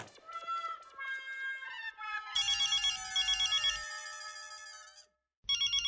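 A phone ringtone plays for an incoming call from Anjali, a bright melodic tone repeating several times at close range, cutting off briefly before resuming, with no talking over it.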